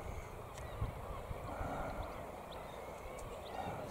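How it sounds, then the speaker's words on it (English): A large flock of birds calls repeatedly from a distance, the honking cries rising over a constant rumble of background noise and wind. "There are a lot of birds."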